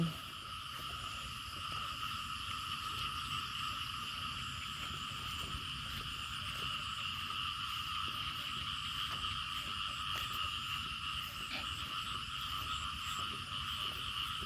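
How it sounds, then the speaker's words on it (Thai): Many frogs croak and trill in a steady, dense chorus at dawn while people are out collecting snails. The chorus is constant and fairly close, with faint scattered clicks and rustles underneath. "เสียงกบเสียงเขียดห้อง"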